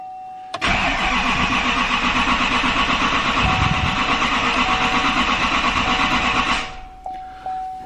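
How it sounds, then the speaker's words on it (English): A diesel truck engine with a newly installed turbo cranks over in a rapid, even rhythm for about six seconds to push oil to the turbo, loud and close, then stops without firing. "we're going to try to crank it over a couple times just to see if we get some oil to that turbo"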